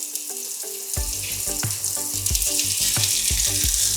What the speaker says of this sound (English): Fry these down